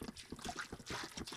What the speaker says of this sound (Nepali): यसमा पानी राखेँ यस्तरी